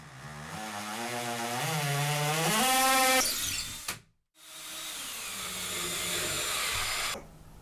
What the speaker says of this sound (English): you're going to need a masonry bit and a drill with the hammer feature, and I'll drill right through the wood and sink this thing all the way down.